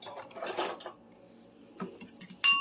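A fork whisks onion soup mix in a bowl for a hamburger French fries casserole, giving quick bright metallic clinks and scrapes in bursts with a short quiet gap, close-up and without talk.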